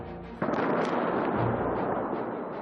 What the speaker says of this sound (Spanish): Explosiones en la capital iraní de Teherán y en al menos 6 ciudades más